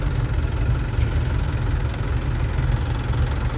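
A Suzuki Swift engine idles steadily with the key pulled out, giving a continuous low rumble with a faint ticking texture, close and unbroken, with no talk over it.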